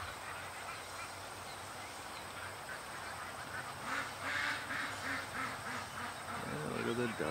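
Ducks quack in water, a cluster of nasal honking calls that grows louder and busier toward the end, with someone talking nearby.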